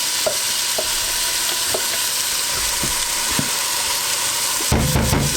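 Spice mix and curry paste frying in a hot pan for lamb and spinach curry, a continuous hiss of sizzling with scattered pops and scrapes, close up, ending in a brief burst of louder stirring clatter.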